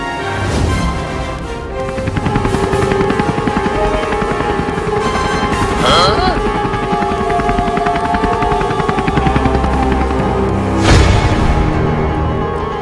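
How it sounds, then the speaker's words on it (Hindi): Police helicopter overhead in a comedy skit: loud, continuous rapid rotor chop, pulsing steadily throughout with occasional sharper bangs, and no talking. "अरे वो पुलिस के पास हेलीकॉप्टर है, वही लाएंगे।"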